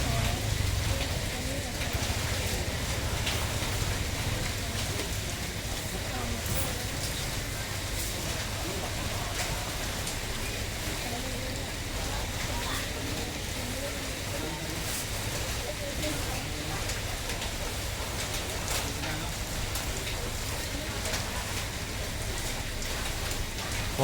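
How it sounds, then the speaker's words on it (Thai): Steady rain pours down, a dense continuous hiss of drops on surfaces with a low rumble beneath and faint voices mixed in. "ฝนนะฝนตก"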